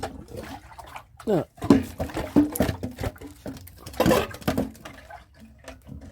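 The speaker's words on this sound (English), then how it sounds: "You can hear how much water's in this thing." Water sloshing around inside an Alfa Romeo as it is lifted and tipped, irregular splashy bursts close by, with someone talking over it.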